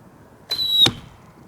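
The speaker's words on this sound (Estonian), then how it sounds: "See on siis vilenool." A whistling arrow with holes drilled in its tip, loosed from a Tatar bow, makes one short, loud rising shriek lasting about a third of a second. It ends sharply with a thud and then falls silent.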